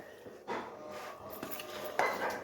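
Ingredients are stirred in a karahi pot for a white chicken karahi, and a utensil scrapes and clinks against the metal pan in several short strokes at close range.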